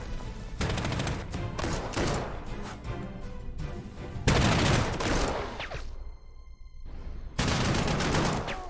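Sustained, loud gunfire and explosive bursts from a bunker and infantry attacking cavalry in Panzer Corps 2, heavy rattling volleys in three long waves separated by a brief quieter gap.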